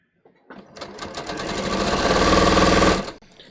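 A sewing machine runs steadily for about three seconds, stitching a bias cut scoop neck top as a fabric strip is stretched, starting up quickly and stopping abruptly, close and loud with no talk over it.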